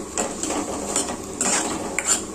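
Seema chintakaya, Manila tamarind, fries in a pan, with close metallic scrapes and clinks of a spoon stirring against the pan over a steady background hiss, and no one speaking.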